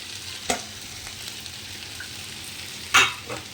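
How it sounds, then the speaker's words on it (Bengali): Potatoes with dried and green chillies and tomato are stirred in a kadai under a faint, low sizzle, broken by two sharp spatula scrapes or clinks, quiet and close. "শুকনো লঙ্কা কাঁচা লঙ্কা টমেটোর সাথে আলুটাকেও আমি একটু কড়াইতে নেড়ে নিচ্ছি"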